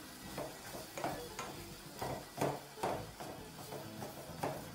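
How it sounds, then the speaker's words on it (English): Minced meat for a meat pie sizzles quietly in a pot over lowered heat while a spoon breaks up the chunks against the pot, giving a soft, even rhythm of scraping strokes close by. "just continue to break up the mince using the back or the sides of your spoon"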